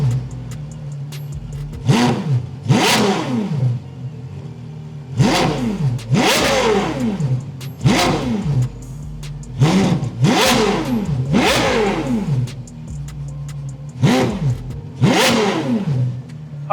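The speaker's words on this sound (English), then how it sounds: "let you guys hear the daily driven exotics Carrera GT straight pipe Inconel" A Porsche Carrera GT with a straight-pipe Inconel exhaust revs hard, about eight loud, sharp throttle blips with rising and falling engine pitch, each separated by short idle gaps.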